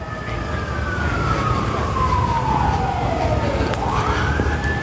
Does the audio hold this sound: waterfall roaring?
no